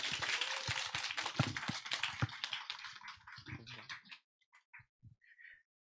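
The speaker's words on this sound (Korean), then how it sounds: "우리 간증을 나눠주실 기다림 이야기의 제목의 주인공을 박수로 맞이하도록 하겠습니다" A small alumni gathering claps to welcome the next person sharing a testimony, a loose patter of hands that thins out and trails off into a few scattered claps and quiet.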